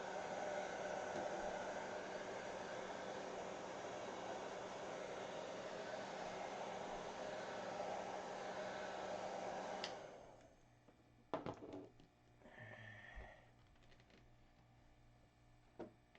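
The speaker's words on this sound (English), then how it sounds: "I think we're going to heat this up with a heat gun a little. Yeah. Monocoat heat gun" A Monocoat heat gun warming covering film blows a steady airy roar for about ten seconds, then cuts off, leaving faint handling clicks and rustles.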